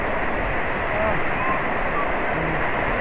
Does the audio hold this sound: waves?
yes